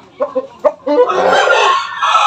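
Fighting roosters, shamo and aseel breeds, give a few short close clucks, then one loud sustained crow rings out alone.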